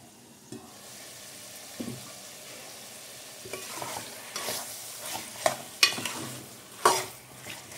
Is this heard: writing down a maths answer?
no